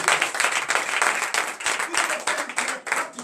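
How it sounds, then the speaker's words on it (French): Church congregation at a morning prayer service clapping and cheering, an uneven round of claps swelling and dipping, with voices mixed into the noise. "Donnez de vives acclamations"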